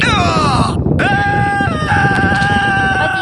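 A character in a knockoff mobile GTA 5 video game lets out a loud, drawn-out wailing death scream that falls and holds, over a constant noisy game background.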